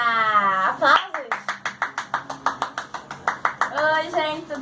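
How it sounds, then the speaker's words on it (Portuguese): A few people clap in a steady, evenly spaced rhythm of about a dozen claps, framed by a voice speaking just before and after. "Aplausos!"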